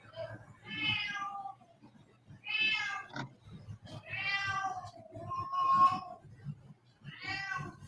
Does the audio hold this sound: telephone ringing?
no